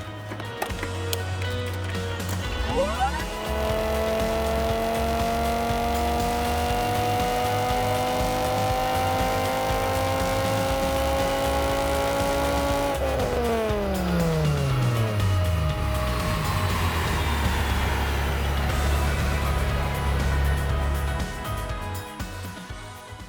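An 850 engine on a dyno pulling hard to red line, revs climbing in a long rising wail, dropping sharply and winding down, loud and close.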